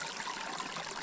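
Mountain stream running on a high trail, a soft, steady trickle and babble of water heard alone at low volume.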